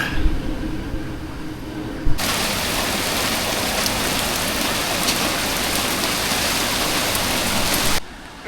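Steady, loud rain pours down for several seconds during a bikepacking trip in China, a dense hiss that starts and stops abruptly.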